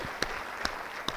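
An audience applauding: soft, continuous clapping from a small gathering, heard from a distance, with three sharper individual claps standing out at regular intervals.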